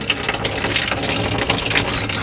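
Antifreeze rushes through an RV shower's hot-water line during winterizing, a loud steady gushing flow close up with slight sputtering and no voices.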